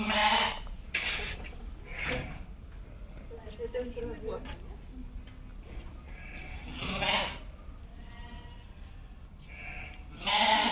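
Sheep bleat in an open enclosure with plenty of room, several calls rising at intervals over a steady outdoor background, with a person talking at times between them.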